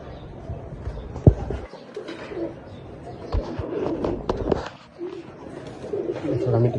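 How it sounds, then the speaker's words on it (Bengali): Soft low cooing of a female cream-bar racing pigeon repeats near and close, mixed with handling noises, shuffling and occasional bumps. "একটা ক্রিমবার রেসার মাদি কবুতর"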